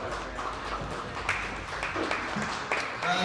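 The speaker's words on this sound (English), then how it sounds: "Round of applause." Crowd applause at a streetlifting nationals competition, a dense steady patter of many hands clapping in a hall, moderately loud and continuous, with voices mixed in underneath.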